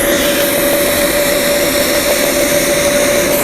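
TIG welding with a YesWelder FIRSTESS MP200 set to 200 amps gives a loud, constant buzzing hum with a steady tone and broad hiss, unbroken from start to end with no talking.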